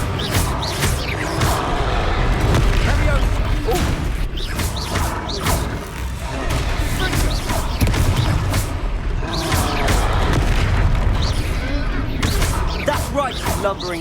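Fiery Confringo spell blasts in Hogwarts Legacy combat burst in a rapid series of crashes, booms and thuds over a busy battle din, with voices calling out throughout.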